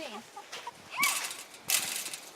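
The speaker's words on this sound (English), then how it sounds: "Meanest rooster I've ever seen." A rooster on a farm gives a few short clucks and calls, close by, with brief bursts of scratchy noise between them.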